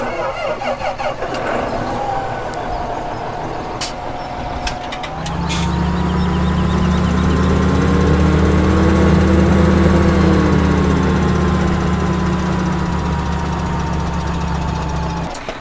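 Tractor engine from the video game Farming Simulator 17 starting up after a few clicks, then running in a steady loud drone with a gently rising and falling pitch.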